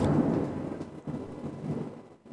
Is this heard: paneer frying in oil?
no